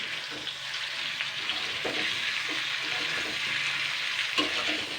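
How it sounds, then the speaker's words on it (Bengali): Drumsticks and potatoes fry in a pan with a bright, continuous sizzle, broken by a few soft stirring scrapes. "দুই মিনিট মতন ভাজা হয়ে গেছে এবার আমি এতে জল দিয়ে দেবো"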